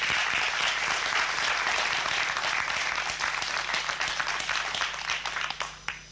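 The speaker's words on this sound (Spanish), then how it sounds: "El aplauso para Seminara, no lo podemos dejar." Audience applause at a tango collectors' tribute, a dense sustained clapping from a full room that carries on evenly and then thins into scattered claps near the end.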